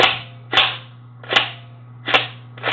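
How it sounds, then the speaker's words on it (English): Umarex IWI Mini Uzi 4.5mm CO2 BB gun cycling its blowback action, four sharp loud pops spaced at a steady rhythm, each a crisp close snap over a faint constant hum. "It has blowback, and so you can do this"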